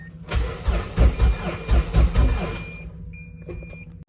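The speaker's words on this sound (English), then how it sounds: "it's cranking over, but it's not starting" Mazda MX-5 NC with a swapped 2.5 engine cranking without catching: a loud, rhythmic, close-up churn of the starter in pulsing bursts for a few seconds, then falling quiet with a faint whine at the end.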